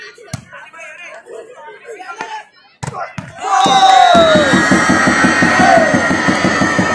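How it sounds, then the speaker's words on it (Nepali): A crowd hooting and cheering at a school mayor cup volleyball match in Nepal, starting with scattered claps and shouts, then swelling into sustained loud rhythmic hooting and clapping. "उस्तै हुटिङको बिचमा"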